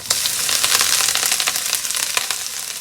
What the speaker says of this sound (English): we got a nice sizzle.